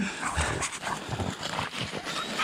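A dog in a forest during early-March mushroom hunting, heard at moderate distance with soft vocal yelps or whimpers over rustling outdoor ambience, continuous through the short stretch.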